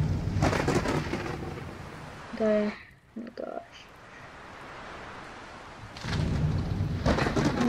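Rain hisses and thunder rumbles through a storm in a Roblox game, with a lull in the middle. Voices talk over the weather.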